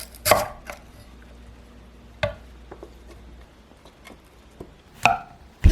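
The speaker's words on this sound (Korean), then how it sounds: "표고버섯은 8mm로 슬라이스하고 가지런히 모아 용기에 담으세요." A knife slicing shiitake mushrooms into 8 mm slices on a cutting board: a few separate sharp cuts, spaced irregularly, close and clear over a quiet background.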